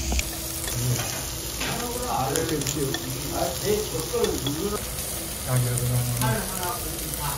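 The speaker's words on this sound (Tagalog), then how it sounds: "So iniihaw yung kimchi rin dito" Kimchi grilling on a hot plate at a makchang restaurant in Daegu, South Korea, gives off a steady, close sizzle with occasional scraping and clinking, and a faint murmur of voices sits in the background.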